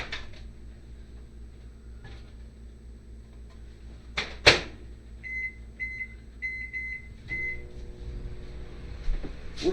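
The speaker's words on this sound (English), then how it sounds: "High in the microwave." Keypad beeps set a microwave oven to run on high, followed by a thunk as the door closes and then the steady low hum of the oven running, all close by in a home kitchen.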